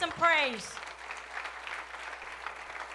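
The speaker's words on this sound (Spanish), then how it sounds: "Amen, un aplauso al Señor." A church congregation applauds during a Spanish-language sermon, steady mid-level clapping that follows a brief spoken word from the preacher and continues for a few seconds.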